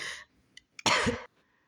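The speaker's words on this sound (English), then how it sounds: "I'm so sorry for the coughing, guys" A single harsh cough bursts out after a faint breathy sound and a couple of small clicks, close and loud, with quiet before and after.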